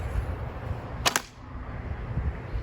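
A single sharp release of an arrow from a white oak recurve self bow, one brief snapping burst standing out over a low steady background hum, with nothing else around it.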